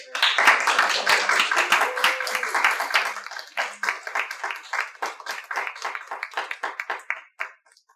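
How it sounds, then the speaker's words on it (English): A small group of teachers at an ethnic studies session claps, starting as a dense burst and thinning after a brief lull into separate sharp claps from a few hands before stopping. "But can we get a round of applause?"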